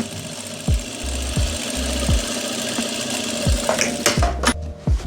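A sewing machine stitches an Afghan salwar in short, loud runs of rapid mechanical chatter close by, each start and stop marked by a thump. A steady motor hum sits underneath.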